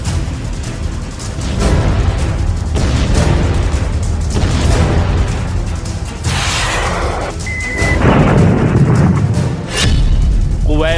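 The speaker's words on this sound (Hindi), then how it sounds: "ईरान ने ट्रंप के उसी सैन्य अड्डे को मिसाइलों से दहलाया जहां से हमला किया गया।" Missile strikes exploding over a military base in Kuwait, deep rumbling booms and crashing blasts that run together continuously and loudly, with a brief high whine and some distant shouting mixed in.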